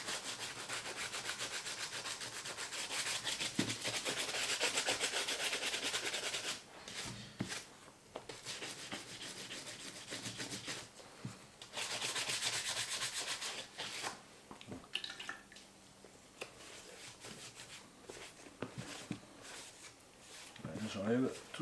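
Brush or cloth rubbing along the welt of a John Lobb leather shoe to clear away leftover soap, steady close scrubbing strokes with brief pauses, while someone talks at times.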